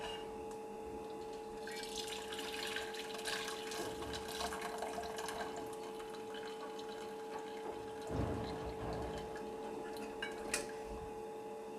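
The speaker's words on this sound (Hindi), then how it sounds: "अब कहवे को छानते हैं।" Kahwa tea for Kashmiri pink tea is poured and strained, a soft, continuous trickle of liquid heard faintly and close over a low background hum.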